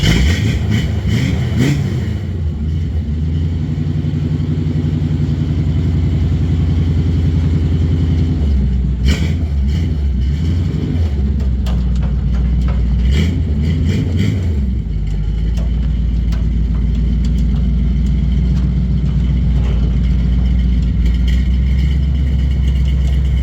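A 1962 Chevy pickup fitted with a 6-inch lift runs close by, its engine idling steadily and revving in short bursts as it backs out of a shop, loud and continuous with no talk.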